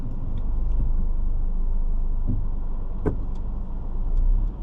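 A car drives through Taipa, Macau at night, its engine and tyre noise forming a steady close rumble with faint passing traffic sounds, no talk.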